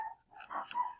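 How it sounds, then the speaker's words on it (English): Dogs upstairs give a few faint, muffled whimpering yips from a distance, short soft bursts in an otherwise quiet room. "if you're hearing that, that is my dogs upstairs"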